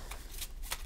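A deck of Bicycle Asteroid playing cards is shuffled up close, three quick riffling bursts of card flutter in a fast, even rhythm against a quiet background.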